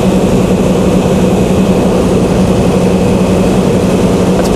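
Chrysler Slant 6 engine generator fitted with Holley Sniper EFI running under a sudden 24 kilowatt load, a loud, steady, close engine drone with a low hum and no voices.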